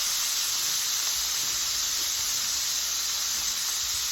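Cherry tomatoes blister in a hot pan, giving a steady, even sizzling hiss that holds at the same level throughout, with no other sounds.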